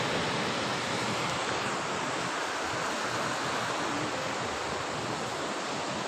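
Sea waves on the shore at Karachi make a steady, loud rushing wash with wind noise mixed in. No voices are heard.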